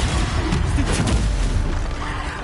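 The Bombarda explosion spell going off in Hogwarts Legacy, a single dense, loud burst of rumbling noise with a booming low end that holds for a couple of seconds.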